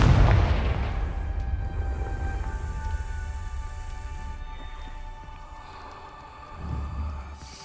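Confringo fire spell detonating in Hogwarts Legacy: a loud opening boom that rings out with a lingering tonal shimmer, then a smaller second burst near the end.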